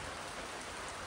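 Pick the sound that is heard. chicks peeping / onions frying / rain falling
rain falling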